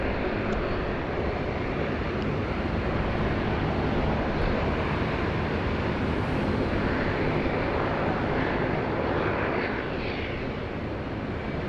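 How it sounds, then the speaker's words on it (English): A Dash 8 turboprop taxis at Sydney Airport, its engines a steady, broad roar that stays loud and even throughout, with some wind noise and no talk. "Looks like the Dash 8 is cutting the queue"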